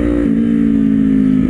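A Kawasaki Z400 motorcycle engine hums at steady revs on the highway, loud and close, holding a strong even drone through the whole moment with a slight pitch dip near the start.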